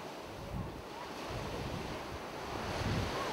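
Waves washing onto Plati Yalos, a wide beach on Kefalonia, a steady rushing surf with gentle swells, mixed with wind buffeting the microphone.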